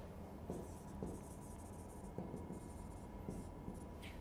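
Faint pen scratches while writing a heading by hand, a few soft strokes spaced over several seconds beneath a steady hiss.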